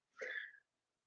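One short, faint sneeze bursts out and stops, followed by silence.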